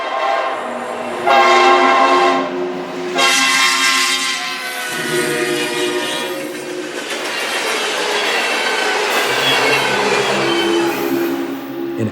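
A Norfolk Southern local freight train rounds a curve, its horn sounding in long blasts over the steady rumble and clatter of rolling cars, with wheel squeal rising near and loud throughout.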